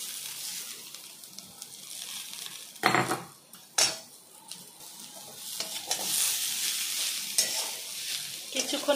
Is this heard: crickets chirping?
no